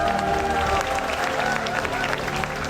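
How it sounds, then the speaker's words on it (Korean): A crowd at a StarCraft esports final applauds continuously, a dense wash of clapping and murmur that holds steady throughout, with a voice speaking over it. "다시 한번 뜨거운 박수를 부탁드립니다"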